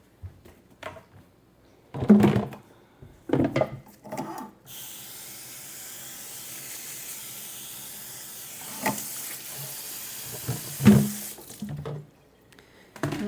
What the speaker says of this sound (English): I'm going to rinse some of this hot pepper off of here.